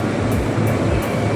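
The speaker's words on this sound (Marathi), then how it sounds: "metro is coming" A Mumbai metro train rolls loudly into a station, a close, steady rumble with rattling clatter that carries on without pause and no talk over it.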